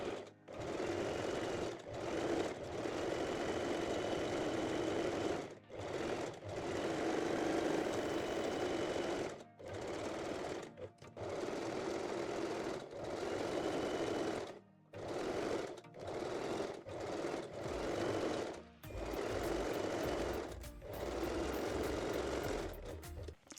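A domestic sewing machine stitches folded elastic onto a lace bra, running in several sustained bursts separated by short pauses, close and steady, with no talking.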